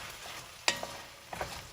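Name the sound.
stirring vegetables and garlic frying in a pot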